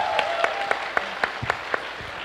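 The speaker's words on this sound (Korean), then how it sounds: "박수 한번 치셔야죠." At a talk-concert launch event in Gwangju, a few sharp, evenly spaced handclaps ring out in a quick rhythmic run, sparse and close rather than a full crowd ovation.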